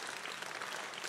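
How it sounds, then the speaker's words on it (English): A brief burst of dense clapping from the audience at a savings and credit cooperative's annual general meeting, steady and moderately loud with no break. "Can you also give a special clap for Kevin today?"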